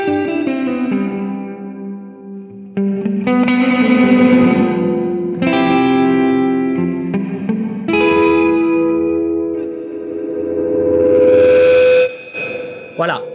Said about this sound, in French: C'est un délai très court avec une reverb hall hein.